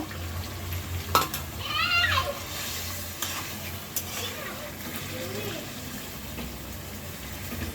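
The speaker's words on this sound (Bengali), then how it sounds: "সিমের বিচিটা দিয়ে আর একটু কষায় নিব।" Bean seeds get stir-fried with potatoes and spices in a pan, making a continuous close sizzle with scraping and stirring knocks, while a voice talks now and then over it.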